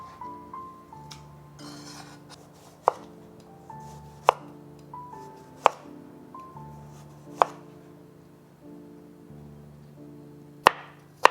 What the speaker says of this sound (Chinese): 剩下的这半根黄瓜，我会把它切成比较粗一些的黄瓜丝